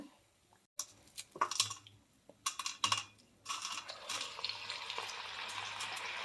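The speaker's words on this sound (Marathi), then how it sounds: "हे चणे या कढईमध्ये सोडून घ्यायचे आहेत बघा." Chickpeas for chana koliwada drop into hot oil in a kadhai, a few bursts of loud spluttering giving way to a steady, close sizzle, no voices.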